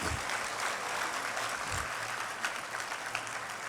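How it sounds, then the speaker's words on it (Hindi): Applause from an audience at a college event in Patna, a steady, even wash of clapping that stays fairly soft and distant throughout. "एक बार जोरदार तालियां"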